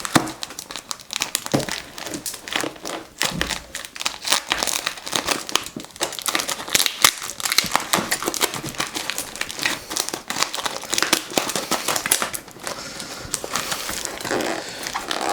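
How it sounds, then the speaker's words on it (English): A delivered package wrapped in lots of tape is being unwrapped. Close, continuous crinkling and crumpling is broken up by quick tearing rips, with no talking over it. "Another delivery this week, and we'll see, got a lot of tape on here."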